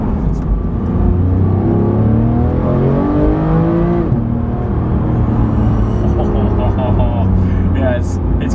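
A powerful Porsche 991 GT engine revs and roars loudly, rising and falling in pitch, with a raspy high-revving tone and a shift partway through.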